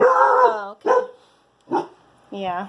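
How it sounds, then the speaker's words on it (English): A dog barks in the background in several short, fairly loud bursts, with a person talking over and between the barks. "I apologize for my dog in the background barking at something."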